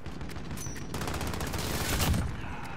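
Sniper gunfire during a multiplayer shooter match on a new map, a burst of sharp shots and rattling fire layered loudly over continuous game noise, with a heavier impact near the end.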